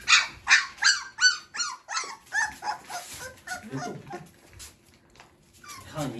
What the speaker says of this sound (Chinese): 看你小狗，看你小狗打架呢